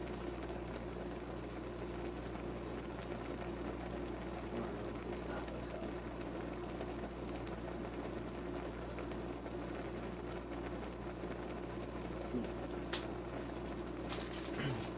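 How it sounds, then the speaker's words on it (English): Steady rolling bubbling of water boiling in a pot on a stovetop for ramen, continuous and even throughout, with a faint hum underneath and no voices. "I don't know if the water's gonna boil off more"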